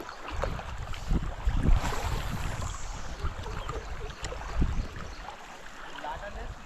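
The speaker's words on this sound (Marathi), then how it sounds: "हवा सुटली आहे" Wind blows across a small fishing boat during rod fishing off the Konkan coast, a rough low rushing noise with gusty swells, while a person talks over it.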